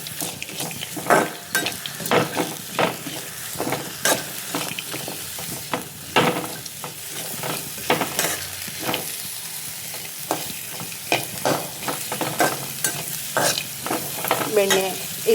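Black pepper frying in butter in a pan over medium heat, with a busy, close sizzle broken by repeated spoon scrapes and taps against the pan as it is stirred, and no voices.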